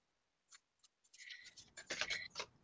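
Tarot cards are shuffled by hand in short crisp riffles and flicks that begin faintly and sparse, then grow denser and louder in quick bursts, close up with no voice over them.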